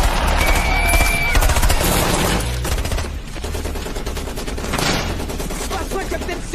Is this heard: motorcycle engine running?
no